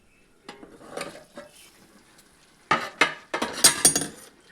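A lid being lifted off a pot of cooked chicken, with a few soft rattles followed by louder clattering metal knocks and scrapes close by.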